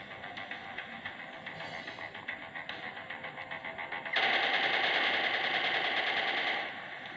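Rapid automatic gunfire in the battle royale game Free Fire rattles in a steady stream of bursts, then swells louder and denser for a few seconds before easing back.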